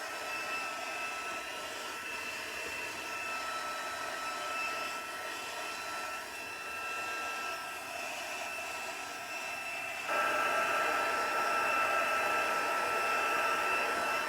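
A heat tool blows steadily across watercolor paper, a continuous whirring hiss of moving air that holds even, then grows noticeably louder partway through as the tool comes closer, with no talking.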